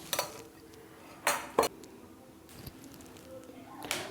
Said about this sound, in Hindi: गैस पर हमने एक कढ़ाई रख दी है और इसमें 2 चम्मच रिफाइंड ऑयल डाल देंगे।